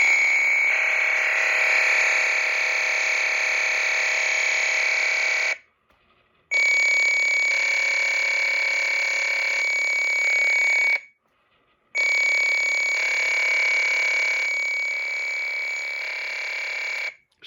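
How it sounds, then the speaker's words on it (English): Data recording from a 1978 PianoCorder plays back as loud, steady fax-like warbling tones in three long bursts split by short silent gaps, no music notes and no talking. "So it's sounds like a fax, but it is a special format."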